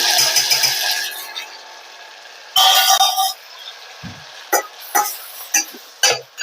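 Tomato rice masala with turmeric fries in a pan over high flame, giving a steady sizzle with intermittent clinks and scrapes of a spoon against the pan, close by and without talk.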